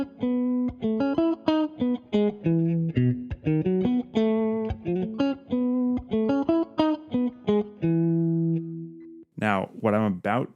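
An electric guitar plays a lick that leads into another song, a quick run of clean plucked notes ending on a sustained tone, followed by a brief burst of voice.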